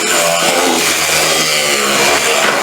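An ultrasonic wand scrubs salt crystals from the edges of a SmartMister DT-5300 misting unit, giving a steady, loud, harsh buzzing hiss that runs unbroken and close, with no talking.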